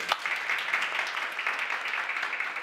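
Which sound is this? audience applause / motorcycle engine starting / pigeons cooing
audience applause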